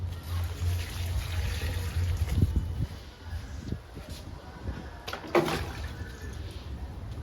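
Liquid poured over two leafy philodendron houseplants indoors, a soft uneven splash and trickle into the soil that comes and goes, with a brief brighter splash near the end.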